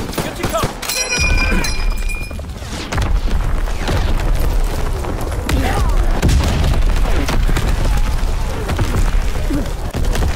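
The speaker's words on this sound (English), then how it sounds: "Incoming enemy artillery. Get to cover." Incoming enemy artillery in Call of Duty WWII, a continuous roar of heavy booms and rumbling blasts filling the whole stretch, loud and close, with game voice callouts mixed in.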